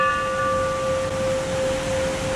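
A Thai temple bell rings with a steady, sustained metallic hum that lingers evenly over a soft background hiss, without other sounds.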